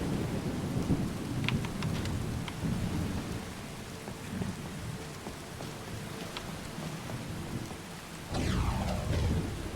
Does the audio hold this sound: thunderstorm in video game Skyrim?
yes